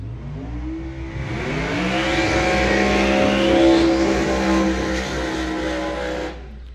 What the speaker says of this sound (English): How about those smoky burnouts? Heating up the hides.